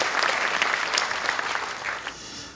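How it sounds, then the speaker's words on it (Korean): Church congregation applauding during a Sunday service, a thick wash of many hands clapping near and steady, then gradually fading toward the end. "우리 하나님께 감사와 영광의 박수를 드리겠습니다."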